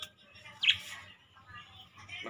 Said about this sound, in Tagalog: Ang ibon namin, guys.